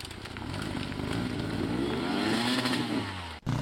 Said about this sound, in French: le sol n'offre vraiment plus aucune stabilité, la roue tourne et glisse dans le vide